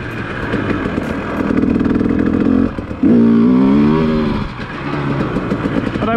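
Dirt bike engine revving hard and close during wheelie practice, with a steady loud drone that climbs in pitch, drops out briefly around the midpoint, then surges again and eases off to a rumbling idle.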